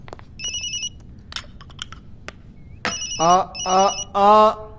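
An electronic phone ringtone chirps in short bursts, interrupted by clicks, then a voice speaks over repeated ring phrases near the end.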